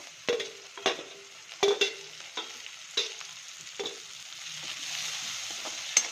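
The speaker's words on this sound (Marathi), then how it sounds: "त्याला 5 मिनिट चांगलं तळून घेऊया" Tomatoes fry in a pan after garlic paste, a low sizzle under repeated sharp scrapes and taps of a spoon stirring against the metal, close and fairly quiet with no voices.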